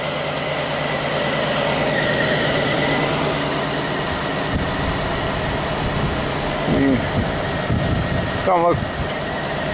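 A 2000 Pontiac Bonneville engine idling with a misfire on cylinder 3, a steady loud rough rumble with uneven pulsing, with brief speech over it.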